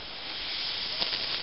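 Steam hisses steadily from a Mamod SE3 model steam engine driving a miniature workshop line shaft, a loud, close, continuous broadband rush with slight surges near the end.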